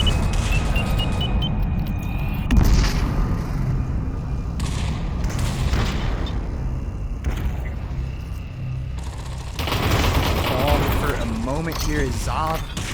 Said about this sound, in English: bullets coming down hard from up top here